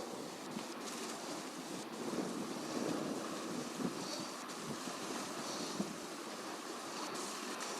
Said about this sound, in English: You can hear the waves and the water.